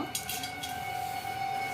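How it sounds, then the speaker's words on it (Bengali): An electric mixer grinder runs as whole spices such as cinnamon, cardamom and cloves are ground into a paste in a kitchen. A steady, high motor whine hums throughout, with a few brief rattling bursts at the start. "তাহলে মিক্সি মেশিনতে আমি পেস্ট করি।"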